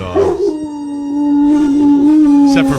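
A pet dog howls along to the Star Wars overture, a sustained wavering tonal howl rising after a short yip, loud and close with faint music behind.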